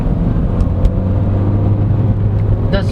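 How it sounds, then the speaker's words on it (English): A 2022 Honda CR-V SX diesel AWD with a 9-speed automatic at full throttle gives a steady, loud cabin drone of engine and road noise, holding even throughout with a slight rising whine near the end. "And now just drive, gonna floor it."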